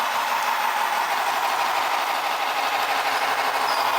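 Brass model PRR Q1 Duplex streamlined steam locomotive running on a track and pulling a load, giving a steady high-pitched mechanical whir and hum with a faint continuous clatter, close and even throughout with no talk.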